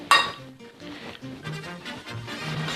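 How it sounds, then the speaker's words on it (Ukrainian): A spoon stirs spinach and cheese filling in a pan, starting with a bright clink of metal on the pan, then soft scraping and shuffling under light clatter, close and moderately quiet. "Помішуємо, щоб шпинат не тримався."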